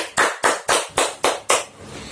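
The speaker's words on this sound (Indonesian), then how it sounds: "Tepuk tangan." Children clap their hands together in a classroom, six sharp, evenly spaced claps in a steady rhythm, loud and close, with no talk over them.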